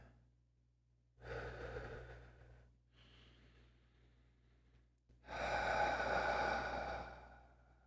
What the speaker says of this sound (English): allowing your breath to flow in and flow out